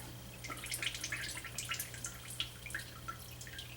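The last coolant dripping out of a 2005 Toyota Corolla radiator, a dozen or so small bright drips falling irregularly, close and quiet, with no talk.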